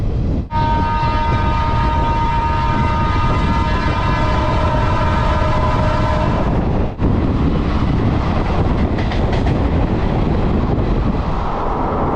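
The 05795 NJP to Coimbatore special rolls through Kharagpur Junction, its loud horn blaring for about six seconds over a heavy rumble, then the rolling clatter of the coaches continues alone.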